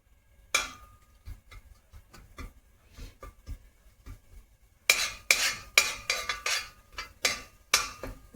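Cumin seeds and asafoetida crackle in hot oil, a run of quiet sharp pops for the first half that turns into a louder, dense sputtering burst near the end, with no talking.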